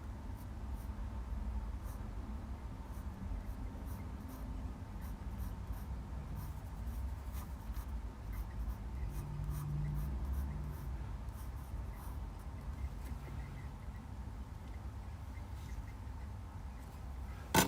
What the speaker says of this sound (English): After you've drawn this, draw a flat rhombus.